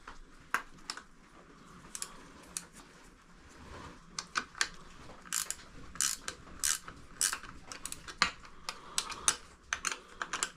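Two 10 mm wrenches tighten a bolt on a bicycle, making scattered metallic clicks and short ratcheting bursts that are quiet, close and irregular, with no talk.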